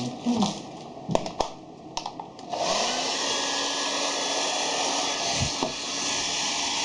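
A VGR V 439 folding hair dryer is switched on and blows very hot air in a loud, steady whoosh that runs from mid-clip to the end, after a few clicks and handling knocks.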